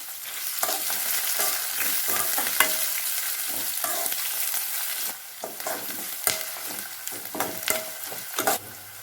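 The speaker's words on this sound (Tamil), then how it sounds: "வெங்காயம் பத்து வாச பரவல் நல்லா வணக்கிக்கலாம்" Onions sautéing in a pan for chicken gravy sizzle continuously, while repeated scraping and clicking strokes of a stirring spoon come through up close.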